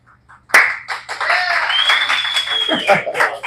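Group of people clapping at the start of a high school football coaches' show, a sharp burst of hand claps with chuckles and voices talking over it.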